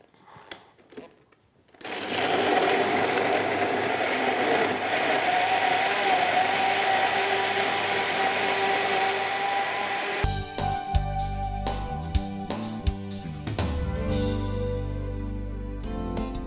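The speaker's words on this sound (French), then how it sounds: "Et on fait mixer le tout." An electric blender whirs continuously, mixing a drink of sugar and water, a loud steady motor drone starting abruptly after a few quiet seconds, then turning rougher and more rattling, with no talking.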